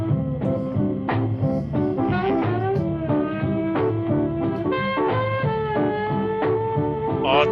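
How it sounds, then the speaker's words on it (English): Jazz music plays from a 1962 film, with brassy melodic lines over a walking rhythm in a lively, continuous passage. It is moderately loud and carries on without any talking over it. "Oh, that's the sound of jazz."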